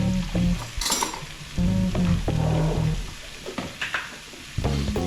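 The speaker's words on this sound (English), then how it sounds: "So I'm going to mix the corned beef in with the mince, the garlic and the onions." Corned beef, mince, garlic and onions are stirred in a pan, giving a steady sizzle with repeated scraping strokes and short clinks, close and fairly loud, with a low tonal hum underneath and no talk.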